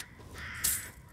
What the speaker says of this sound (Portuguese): Esse corvo aí.